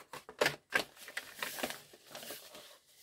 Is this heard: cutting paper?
yes